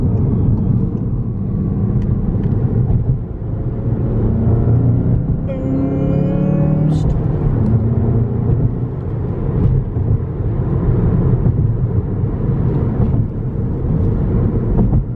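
A stock Volkswagen GTI Rabbit Edition engine roars loudly and steadily throughout, with a brief rising whine partway through as it pulls hard.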